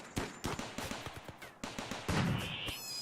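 Turrets in RimWorld fire in rapid bursts of sharp, punchy shots, irregularly spaced with brief pauses, followed by a short tonal game effect at the end.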